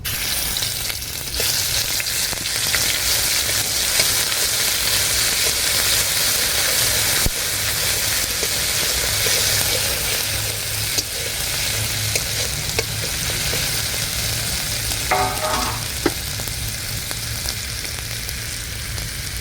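Ground cumin paste and raw garlic fry in oil in a pan over a wood fire for a fish curry, giving a loud, dense, continuous sizzle and hiss that holds steady, with a brief stirring scrape near the end.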